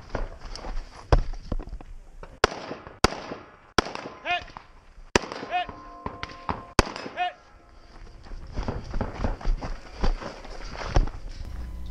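Rifle shots ring out at a two-gun action shooting match stage, about ten sharp loud cracks spaced irregularly, some with metallic target pings, among footsteps and movement.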